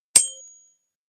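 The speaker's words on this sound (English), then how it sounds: "I need to work on my bell ringing and my gonging techniques." A single struck metal gong or bell rings out once with a sharp bright attack and a clear ringing tone that decays over about half a second, alone in an otherwise quiet space.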